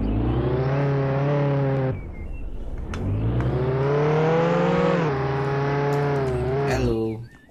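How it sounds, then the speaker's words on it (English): A Lamborghini drives in the Roblox video game, its engine tone climbing in long smooth revs, dropping and rising again through two or three accelerations, loud and close, with some speech over it. "we'll have to drive off to the bank to be able to drive our Lamborghini"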